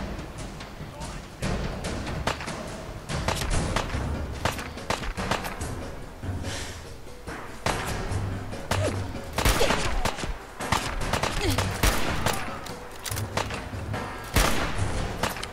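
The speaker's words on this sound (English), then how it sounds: "So we have 3 bullets in hard sniper rifle. Let's shoot him from this spot." A sniper rifle in Fallout 4 fires in the wastes, giving sharp cracks and thuds spread across the scene, with someone talking over the shots.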